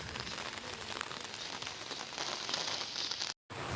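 Heavy storm rain pours steadily during a low-pressure flood, a dense close hiss on surfaces with scattered drop crackles, broken by a brief dropout near the end.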